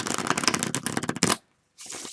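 Tarot cards being shuffled up close, a rapid run of crisp riffling flicks that stops abruptly, followed by a brief pause and a softer second burst of card handling.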